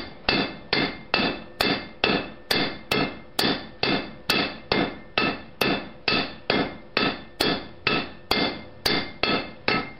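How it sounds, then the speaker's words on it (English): A blacksmith hammers the base of a bolt in a swage, striking about two blows per second in a steady, loud, ringing rhythm with no talk. "Here we'll be blacksmithing the base of our bolt to curve around in the swage so it will fit around the bolt."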